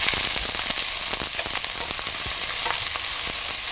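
Small shallots crushed with two sprigs of curry leaves and salt sizzle steadily in a hot pan, with scattered scraping and stirring taps against the pan, close and loud with no talk.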